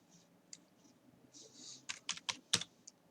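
Keys on a computer keyboard are typed in short, faint, scattered taps, picking up into a quicker, louder run of clacks near the end in a quiet room.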